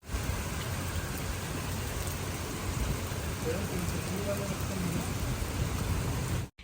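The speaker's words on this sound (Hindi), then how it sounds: "बाहर बहुत तेज़ बारिश हो रही है" Heavy rain pours down steadily, a dense, continuous hiss of drops that stays loud and unbroken throughout before cutting off abruptly.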